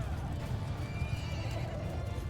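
Horses neigh and hooves clatter amid a Mount & Blade II Bannerlord battle, the whinnies and clip-clop steady and close throughout over a dense, rumbling low backdrop.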